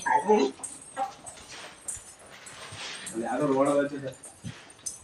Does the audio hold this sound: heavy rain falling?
no